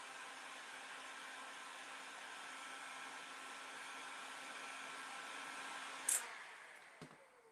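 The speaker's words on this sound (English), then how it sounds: "Coming with my heat gun to heat it up again." A heat gun blows a steady, even hiss while warming a bent wooden panel for a small bathroom bin, holding constant for several seconds before a couple of brief knocks near the end.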